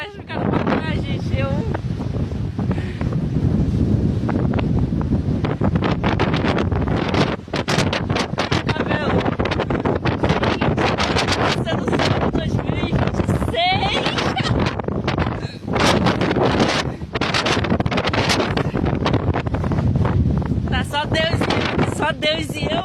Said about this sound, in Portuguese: Nossa, o vento é muito forte.